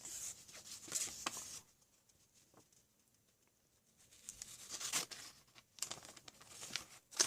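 Paper being cut down by hand to make a DIY coloring book envelope, heard as faint, close rustling and snipping in two short bursts with a quiet gap between them.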